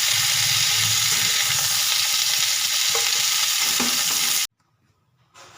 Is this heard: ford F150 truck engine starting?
no